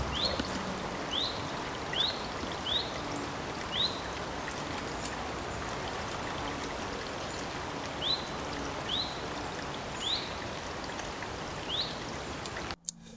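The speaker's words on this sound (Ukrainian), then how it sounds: "Приємно чути, як дзюрчить цей струмок і як весні радіють птахи." A babbling spring stream between stone-reinforced banks runs as a constant rushing murmur, while a bird repeats a short, bright chirp about every second or two above the water, with no voices.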